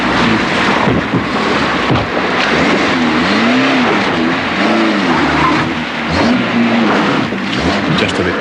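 A 1980s Subaru four-wheel-drive engine revs and labours continuously on slippery rocks off-road, its pitch rising and falling in repeated surges, loud and close throughout with wind buffeting the microphone.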